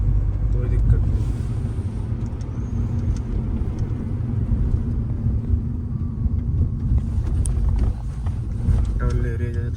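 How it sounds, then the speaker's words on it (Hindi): A Hyundai i20 petrol car cruising in fifth gear at about 50, heard as a constant low engine and road rumble from inside the cabin, with someone talking over it. "फिफ्थ गियर में है, 50 की स्पीड है। गाड़ी आराम से पिक करती हुई जा रही है"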